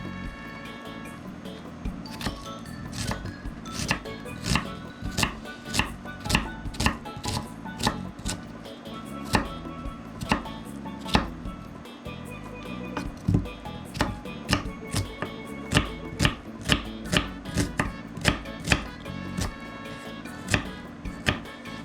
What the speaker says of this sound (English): Also start slicing up some carrots.